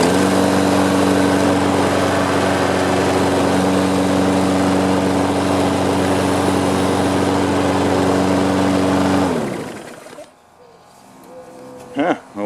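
A small walk-behind lawn mower with an automatic choke and no primer bulb fires on the first pull and runs at a loud, steady drone for about nine seconds, then shuts off, leaving a few faint clicks and rustles.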